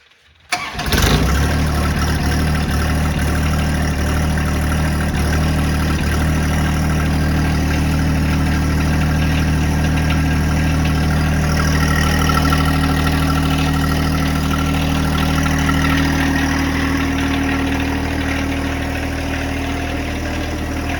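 A John Deere 2025R compact tractor engine starts with a brief crank, then settles into a steady, loud, close idle with a low throbbing rumble that runs unchanged for about twenty seconds.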